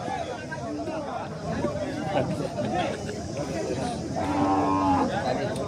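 Cattle moo loudly at a busy Sunday livestock market in Chintamani, the lowing calls rising over a steady babble of people talking nearby.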